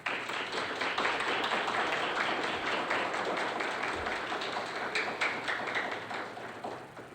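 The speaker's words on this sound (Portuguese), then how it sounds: "Uma salva de palmas para ele." Applause at a Scout Day ceremony, a fairly small gathering clapping, with individual claps distinct and quiet, slowly thinning toward the end.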